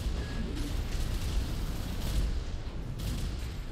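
Rifles firing in the mech combat game Armored Core 6 during a PvP match, a dense, continuous rumbling barrage of booming shots and thuds that stays loud and steady throughout, with no talking.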